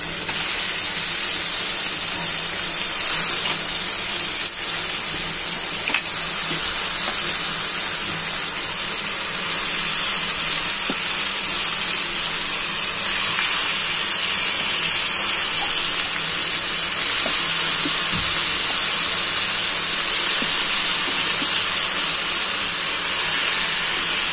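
Mushi dropped into hot oil in a pan, giving a loud, continuous hissing sizzle that holds steady and close for over twenty seconds, with no one talking.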